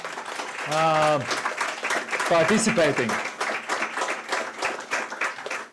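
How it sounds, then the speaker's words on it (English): Audience applause at a Baltic startup ranking event and pitch session, a moderate spread of clapping rising under an amplified voice talking over it, continuing steadily to the end. "let's give a big applause to each and every one of us"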